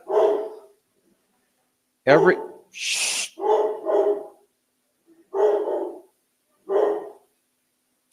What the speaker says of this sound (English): Something's upset the dog.